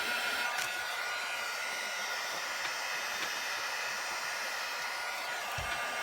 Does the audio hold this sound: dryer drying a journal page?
yes